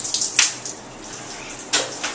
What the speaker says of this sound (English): So you got to have some water and rinse these parts off.